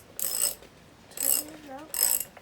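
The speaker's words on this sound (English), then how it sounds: "Just gonna tighten up the side blade." A tool tightening the side blade on a Stihl 028 AV Super chainsaw that won't start makes three short, close ratcheting clicks spaced about a second apart, quiet and alone in a still room.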